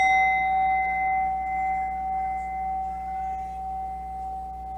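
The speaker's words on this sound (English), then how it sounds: "let's start with your chimes" A chime rings with a long, steady sustained tone that slowly fades over several seconds, heard alone in a quiet room.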